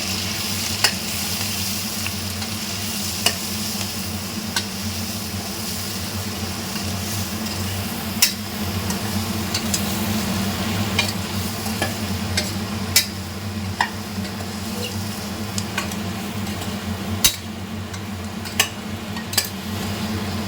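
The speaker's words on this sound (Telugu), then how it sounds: "ఇప్పుడు ఇవన్నీ కొంచెం స్పైసెస్ అన్నీ యాడ్ చేసినవన్నీ రోస్ట్ అవ్వాలి" Spices, turmeric, salt and coconut powder roasting in a pan, a steady dry sizzle under repeated sharp clinks and scrapes of a spoon against the pan, close and loud.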